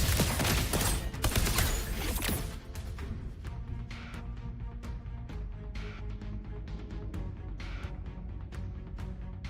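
Gunfire from the video game Wuthering Waves rattles in dense rapid bursts at first, then thins to scattered sharp shots over layered game music and effects.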